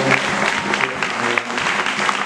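Church congregation applauding during a sermon, a short burst of loud, dense clapping with some crowd noise and a faint voice beneath.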